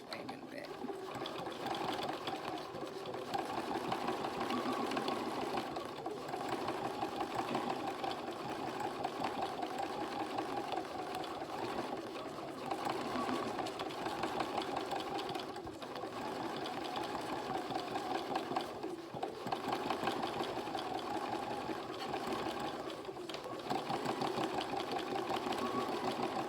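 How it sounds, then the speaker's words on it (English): A sewing machine runs steadily while stitching a blue tit fabric collage, guided freely like drawing lines. Its motor whirs and hums continuously at close range for the whole stretch, with only brief dips and no voices. "My best tip for you is just to use this sewing machine as if it was a pencil"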